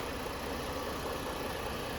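Ford 3.5 liter Duratec V6 engine rated at 265 horsepower, running steadily at idle with an even low hum and faint mechanical ticking, close up and alone.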